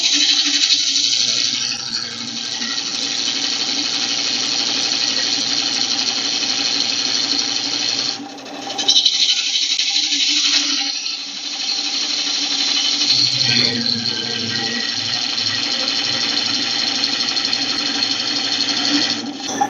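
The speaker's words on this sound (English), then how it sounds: "You can also use a scraping motion like that." A bowl gouge cuts and scrapes a wooden bowl spinning on a woodturning lathe, giving a loud, continuous harsh tearing whine with brief dips where the tool lifts off, close up throughout.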